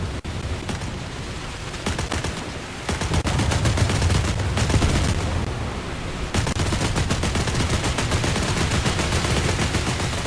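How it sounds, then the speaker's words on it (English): Rapid bursts of 20 mm boat cannon fire in a War Thunder naval battle, dense and continuous, loud and close, with brief lulls between long chattering strings of shots. "our 20 millimeters opening up right away"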